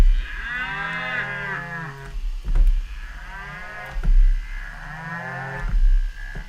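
A cow's moo played as a keyboard sample: three drawn-out, tonal moos at shifting pitches, each starting with a thump, over a low steady hum.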